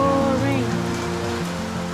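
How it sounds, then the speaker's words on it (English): Heavy rain pours down in a steady, dense hiss, close and loud, with a voice briefly over it at the start. "Look at that. I'm not kidding. It's pouring."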